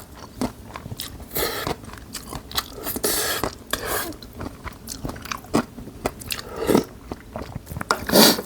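Someone eats mixed rice with kimchi up close, with repeated crunchy bites and wet chewing in an irregular rhythm, with no talk.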